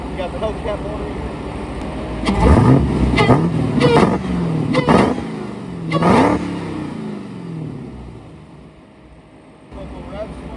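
A Dodge Hellcat engine is revved several times with the hood open, giving a series of loud, short bursts that rise and fall, then settle into a quieter idle, with a voice speaking briefly.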